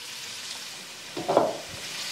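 Ground sausage sizzles steadily in a pan over medium heat, a soft continuous crackle with a brief louder burst of spattering when the meat is stirred.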